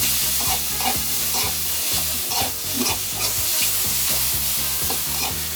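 Spice paste pounded in a mortar sizzles steadily as it is stir-fried in fat rendered from pork belly, with a constant close hiss and scraping strokes over low background music.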